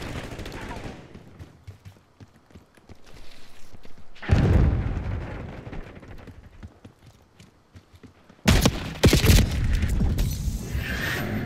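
A shotgun in Call of Duty: Black Ops 6 booms several times with slow pumping gaps between shots. Heavy blasts come in bursts over game noise and footsteps.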